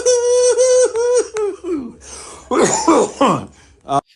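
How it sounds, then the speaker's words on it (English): A person coughs and clears their throat in a short burst, mixed with laughter-like vocal sounds, close by. "You're literally coughing."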